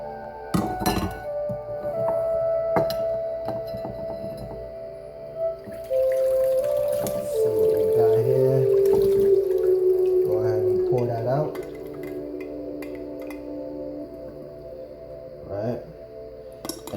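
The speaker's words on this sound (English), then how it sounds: "We're gonna put these through a nice another little rinse." Strawberries rinsed under running tap water in a kitchen, with a steady faucet stream, clinking glass and dish sounds, and splashing that shifts in pitch as the water hits the fruit and bowl.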